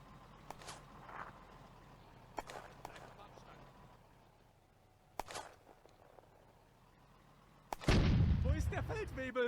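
Artillery fire in the World War II tank game Firefight on the Eastern Front, as Soviet guns shoot from fixed positions: a few sharp distant booms spaced across the stretch, then a louder sustained rumble near the end, with speech at moments.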